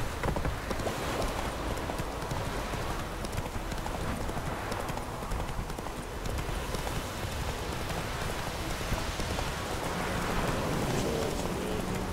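Hooves of Roach, a horse in a video game, clip-clop steadily throughout, mixed with a continuous rain-like patter at a fairly even level.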